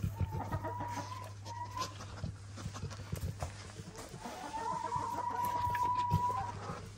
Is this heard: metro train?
no